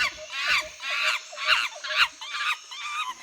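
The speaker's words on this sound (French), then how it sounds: "Les singes hurlent en retour, mais ils ne rendent pas les casquettes." Monkeys screaming back as a sound effect in a children's story about a cap seller: about six shrill, squealing bursts in quick succession, loud and close, with no talk.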